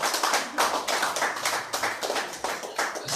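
A church congregation applauds the pastor with steady, fairly loud, rhythmic clapping that keeps going without a break and has no talk over it.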